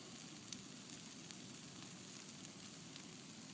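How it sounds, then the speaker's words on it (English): Crackle from a virtual fireplace: a steady soft hiss with faint scattered pops, low in level and continuous, with no voices. "Virtual fireplace. There you go."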